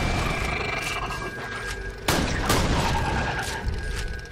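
Rapid gunfire in Borderlands The Pre-Sequel, a dense burst of loud repeated shots with sharp booming impacts, no talking.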